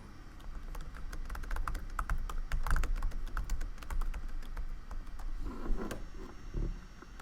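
Rapid, uneven clicking of keys as someone types on a MacBook keyboard, close and fairly quiet, with a few heavier taps and a brief shuffle near the end.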